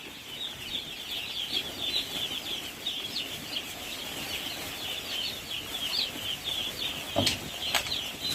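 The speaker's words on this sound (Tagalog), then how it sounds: "Dinagdagan ko din muna yung sisiyo ni Ron." Chicks are unloaded for delivery, with many high-pitched peeps chirping continuously in a dense chorus, along with occasional flutters and light knocks.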